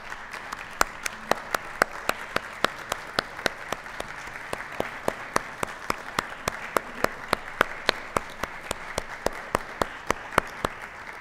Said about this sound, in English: would all Catholic Central alumni please stand and be recognized with a round of applause?